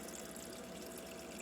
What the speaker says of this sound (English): it just loaded with the water, and it didn't drop the ice